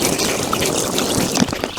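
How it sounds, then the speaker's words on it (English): A watering can pours a steady, close shower of water over freshly sown vegetable seeds in a garden bed, a continuous splashing trickle with no voices. "I'm gonna take a watering can and water the seeds again."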